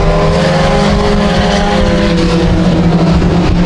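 Mini stock race car engine droning loud and steady on a dirt track at Genesee as the car limps around on a flat tire near the end of a heat race, a continuous close roar with no break.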